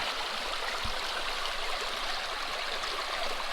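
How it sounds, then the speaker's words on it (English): Water flows steadily through a fluid-bed sluice running high, a continuous, loud, close rushing and gurgling wash with no pauses and no speech. "The water's up kind of high today on my sluice"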